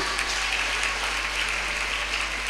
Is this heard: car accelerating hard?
no